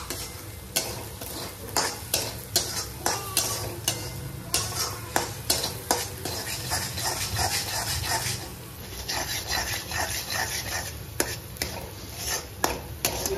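Spices and masala roast in oil in a pan, giving a continuous crackling sizzle with repeated sharp stirring scrapes and clatters. A dog barks now and then in the background.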